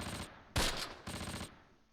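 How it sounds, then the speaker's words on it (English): Tank cannon and small-arms gunfire in the Close Combat war game, with sharp bursts of rapid shots, one heavy blast in the middle and another burst after it, loud and close. "Get away from the cannon fire."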